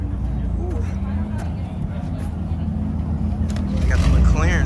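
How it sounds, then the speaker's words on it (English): McLaren sports cars arrive at an outdoor car meet, a steady engine drone that swells louder toward the end, with people talking over it. "Got the McLarens coming."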